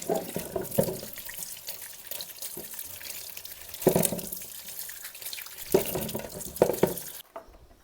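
Gooseberries are rinsed under a running kitchen tap, water splashing and pattering continuously with a few sharper bursts as the fruit is handled, then the flow stops near the end.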